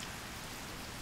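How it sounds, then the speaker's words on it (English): Heavy rain, a dense, even wash of hiss with no breaks, fairly faint and unchanging throughout, without any voices. "Oh, the rain is so loud I can barely hear myself think."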